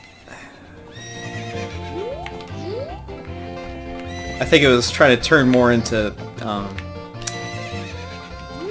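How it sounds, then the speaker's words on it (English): A horse in Ocarina of Time neighs repeatedly with bright, rising and falling whinnies, loud and close, mixed with clip-clop hooves, while someone talks over it. "What's up with that horse?"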